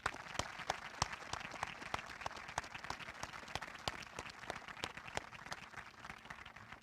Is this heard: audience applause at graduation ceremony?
yes